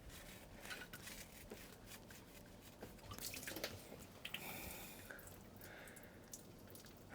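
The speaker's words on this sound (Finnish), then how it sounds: "Nyt tulee varmaan taas sitten vettä." Water drips from the exhaust manifold of an OMC 5.7 boat engine under disassembly, faint, irregular drops and soft wet squishes scattered over a quiet background.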